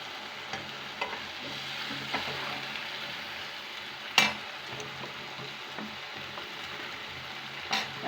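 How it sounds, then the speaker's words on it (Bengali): Fresh bottle gourd with red lentils sautéing in a pan, a steady close sizzle and fry with intermittent scraping stirs and occasional sharp clinks of a utensil against the pan. "রান্নাটা আস্তে আস্তে কষায় নিচ্ছি। নেড়ে নেড়ে"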